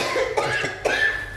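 A patient at a GP surgery in Watford coughs twice, close and sharp, with a short pause between the coughs.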